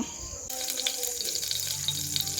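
Two tablespoons of oil warm in a small pressure cooker for radish sambar, giving a soft, steady sizzle close by after a brief knock at the start, with no one talking.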